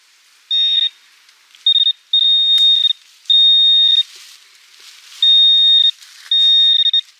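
A metal detector gives a bright, high-pitched electronic tone in six bursts of varying length, some short and some nearly a second long, separated by brief silences, close and clear with no talking.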